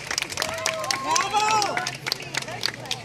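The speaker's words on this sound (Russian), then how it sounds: "Аплодисменты еще раз" Audience at a Russia Day celebration in Barcelona applauds after a dance performance, scattered claps and crowd babble mixed with voices talking nearby.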